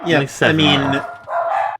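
Dogs barking in a room, a few loud yelping barks in short bursts, close by and mixed in with someone talking.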